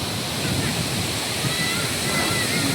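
Tinuy-An Falls roars in a dense, steady rush of falling water, loud and close, with no pauses.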